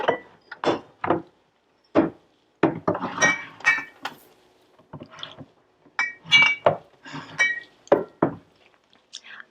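Oil bottles are set down on a kitchen cabinet shelf in a string of close, sharp glass-and-wood clinks and knocks, some in quick pairs, separated by brief silences.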